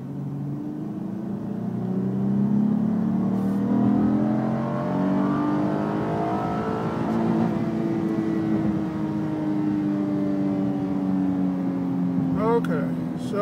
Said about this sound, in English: And then I'm going to do the pretty strong acceleration in order to record the engine performance.